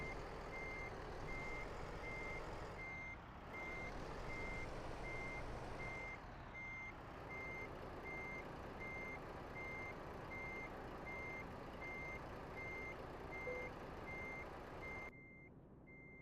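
A truck backs up to hitch a trailer at its fifth wheel, its reversing alarm beeping steadily in an even rhythm over a low idling engine before cutting off near the end.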